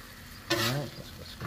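Jimmy Dean sausage links sizzle on a hot Blackstone griddle, a faint steady crackle with a louder, brief burst of frying as they are stirred and pushed aside.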